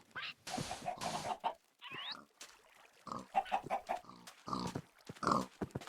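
Pigs in the Minecraft video game grunt and oink in short repeated bursts, mixed with clucking chickens, several close animal calls scattered over six seconds.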